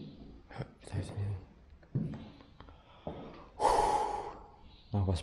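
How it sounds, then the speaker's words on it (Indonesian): Heavy breathing close to the microphone inside a police dormitory building in Surabaya, with several gasps and snorts and one long, loud breath, mixed with soft whispering. "Nafas besar aku di sini."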